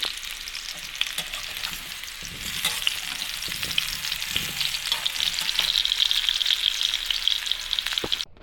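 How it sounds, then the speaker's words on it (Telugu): Indian gooseberries (amla) fry in a pan for pickle, giving a close, loud, continuous sizzle with crackling spatter and a few soft scraping stirs. "పచ్చడికని ఉసిరికాయలు వేయించుకున్నానండి"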